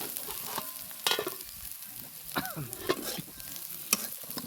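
Vegetables, including radish, stir-fried in a pan, with a steady sizzle and repeated scraping and clattering of a spatula as the pieces are tossed and stirred.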